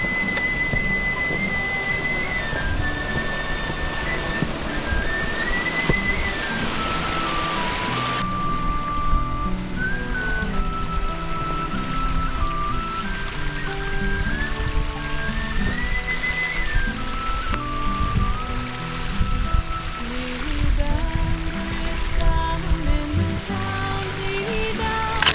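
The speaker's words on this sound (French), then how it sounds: "il y a un tout petit ruisseau et l'eau de ce ruisseau vient se jeter dans la mer" A tiny stream running across the shore into the sea near the Giant's Causeway in Ireland, a steady broadband rush of water lasting throughout, with wavering tonal sounds drifting over it.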